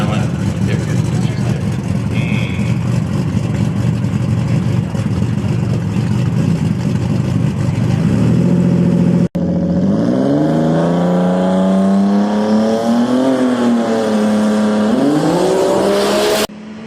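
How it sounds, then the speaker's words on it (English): A heads-up drag race car sits on the trans brake at a shootout event, its engine blaring loud and raw, then rising into a harsh, wavering high-revving roar. "Listen to the sound this car makes when it gets on the trans brake."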